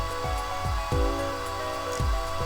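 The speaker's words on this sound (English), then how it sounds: "Just touch it to direct the dryer." A cordless hair dryer from the Apollo Justice video game blows a steady synthetic whoosh while drying plaster on the floor, with tonal music-like layers and soft periodic thumps about every half second.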